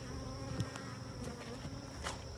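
Russian honey bees at a newly installed hive, a faint, steady buzzing drone with a few brief closer passes, no voices.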